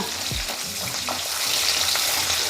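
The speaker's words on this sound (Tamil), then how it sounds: "இந்த வெங்காயம் பூண்டு நல்லா வதங்கட்டும்" Small onions and garlic sauté in hot oil in a pan, a dense, even sizzle close up, with a brief low clunk at the start and no voices.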